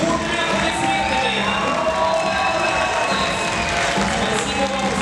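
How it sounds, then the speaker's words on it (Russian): An audience at a fitness bikini competition cheers and applauds loudly for several seconds, a dense continuous roar of clapping and shouting voices filling the hall. "Давайте бурные аплодисменты."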